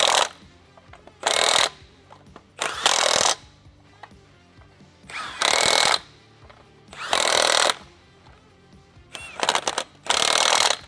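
A power impact tool torques lug nuts as a wheel is refitted on a Nissan Frontier, sounding as six loud, close rattling bursts of about half a second each, separated by quiet pauses.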